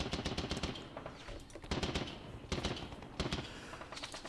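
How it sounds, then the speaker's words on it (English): In a WWI strategy game at the battle of Mons, a machine gun rattles off rapid bursts at troops, three or four clattering volleys with brief gaps, fairly faint and without talk. "These guys can't fire, but the machine gun can, so we're machine gun these troops."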